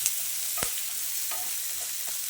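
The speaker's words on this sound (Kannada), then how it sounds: "ಈರುಳ್ಳಿ 1 ಕಪ್ ಆಗೋಷ್ಟು ಅದನ್ನು ಹಾಕ್ತಾ ಇದ್ದೇನೆ. ಈಗ ಚೆನ್ನಾಗಿ ಮಿಕ್ಸ್ ಕೊಡಿ." Chopped onions fry in oil with a steady, close sizzle, broken by a few soft scrapes and knocks of a spoon stirring the pan.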